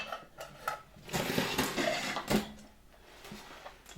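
Metal clinks and scraping as a nut is worked out from inside an old vacuum cleaner motor from about 1953, with short rattling knocks and taps, close by and moderately loud, and no talking.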